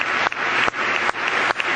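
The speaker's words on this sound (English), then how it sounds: "Keep going, keeps going, the applause" Steady, dense applause from a large audience at a Trump speech before Congress, broken by brief near-silent cuts every few tenths of a second, with no talk.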